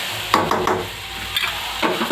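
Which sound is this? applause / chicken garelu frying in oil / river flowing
chicken garelu frying in oil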